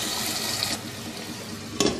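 Water poured into a pot of mutton stew seasoned with red chilli, salt and turmeric: a steady liquid splash runs throughout, with a brief louder gush near the end.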